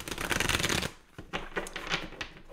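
Tarot cards shuffled for a reading: a dense, continuous riffling rush for about a second, then a pause followed by softer, scattered card slides and flicks, close and alone.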